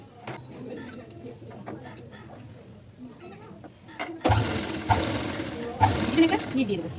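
A sewing machine stitches a collar onto a blouse. After several seconds of quieter room sounds, the whirring motor starts loud and close and keeps running steadily to the end.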